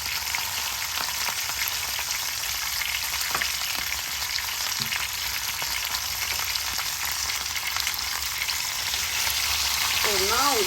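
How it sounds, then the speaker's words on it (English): Cauliflower roasting in a hot pan gives a steady, dense sizzle and crackle throughout, close and fairly loud, with faint stirring clicks and no talking. "gonna roast all the cauliflower"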